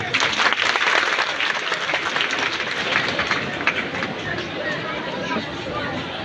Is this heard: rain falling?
no